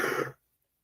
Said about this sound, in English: Hang on, got a cough.